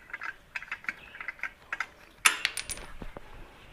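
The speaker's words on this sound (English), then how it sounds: "You have to tighten these screws in." Small metal clicks and taps from a tool tightening the clutch cover screws on a 2008 Harley-Davidson, coming in a rapid, irregular series at close range with a brighter clatter partway through and no talking.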